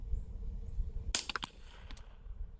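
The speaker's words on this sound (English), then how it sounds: "we're gonna see what it would sound like to be shot at with suppressed 10 mil" Suppressed 10mm gunshots heard from about 100 yards away at an outdoor berm: a few sharp, faint cracks in quick succession over a low background rumble.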